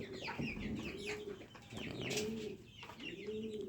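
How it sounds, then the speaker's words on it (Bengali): Egyptian Fayoumi chickens, hens and roosters kept for laying, give soft repeated clucks and low coo-like calls in a quiet pen, fairly faint and alone. "এই যে আমাদের মিশরি ফায়ামিগুলা এগুলো আর কিছুদিন গেলেই ডিম দিবে"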